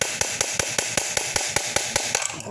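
Rapid metal-on-metal hammer blows on a chisel, staking a scooter CVT pulley nut to lock it, about a dozen sharp evenly spaced strikes close up with no talking.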